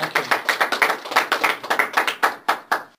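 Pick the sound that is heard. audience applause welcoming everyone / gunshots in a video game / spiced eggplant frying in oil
audience applause welcoming everyone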